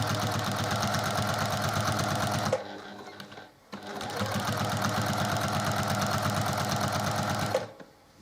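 A sewing machine stitches a quilt block in two long, fast, steady runs, its rapid mechanical whirr broken by a brief pause in between, loud and close.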